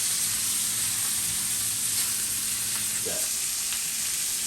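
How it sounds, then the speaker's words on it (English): Bacon sizzles loudly and continuously in a frying pan, a dense crackling hiss with a faint clink partway through. "Sizzling"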